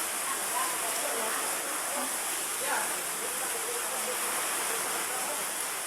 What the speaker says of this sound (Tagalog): Umuulan na sa ano mga idol ba dito.